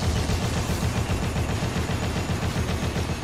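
Rapid automatic gunfire from the video game Dead Rising runs as a dense, continuous stream of loud shots with no pauses and no voices.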